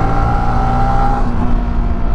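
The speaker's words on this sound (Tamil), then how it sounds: "எக்ஸாஸ்ட் நோட் கேட்டிங்களா எப்படி இருக்குன்ட்டு. 2018 மாடலுங்க இந்த வண்டி." Exhaust note of a 2018-model vehicle, a steady engine drone with low rumble and a brief tonal whine, continuous and fairly loud throughout with no talk.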